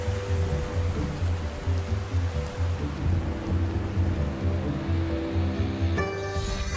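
Rain and storm in the intro of the Kebab World cooking video game, a continuous wash of rain and surf-like noise over a low repeating musical pulse, steady and moderately loud.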